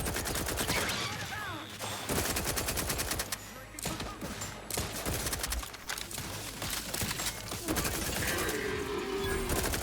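Rapid bursts of gunfire from a gun in the video game The Outer Worlds 2, dense repeated shots with brief pauses, loud and close, mixed with game combat effects.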